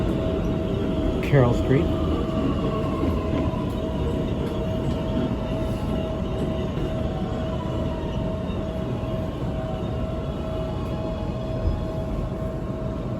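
A New York G line subway train rumbles steadily underground near Carroll Street station, a continuous loud roar filling the whole stretch, with a brief voice announcement early on.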